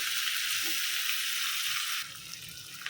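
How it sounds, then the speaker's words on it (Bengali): Spice paste fries in a pan with a loud, close, hissing sizzle that drops slightly in level partway through, and no voices are heard. "মশলাটা ভালোভাবে একটু ভাজা ভাজা করে"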